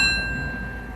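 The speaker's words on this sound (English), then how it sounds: "they have to ring the bell 3 times" A mine hoist signal bell struck once in a lead mine, a single bright metallic ring with a clear tone that decays over under a second against low background rumble.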